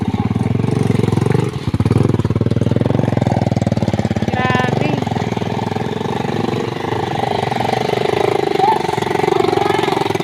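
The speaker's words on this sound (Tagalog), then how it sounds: "Hirap na hirap yung motor, oh." Motorcycle engine straining on a very muddy rural road, a loud, close, continuous rapid chugging and revving that labors and surges, with a person briefly speaking over it.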